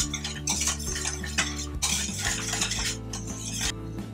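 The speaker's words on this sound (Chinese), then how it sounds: "我边搅拌。" Glutinous rice flour is stirred into melted sugar in a pot, producing continuous scraping and rhythmic swishing strokes with faint clinks of the utensil against the pan, close and without speech.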